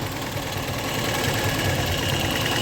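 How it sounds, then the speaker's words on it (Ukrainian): A VAZ 2109 car engine runs at a steady idle, a loud, close, continuous rumble with a faint knocking texture and no voices over it; the car has a charging fault. "ця машина доволі неплохо заводиться"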